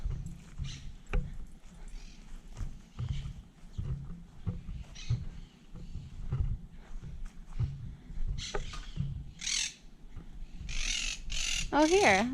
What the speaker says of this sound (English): Oh, there's some parrots.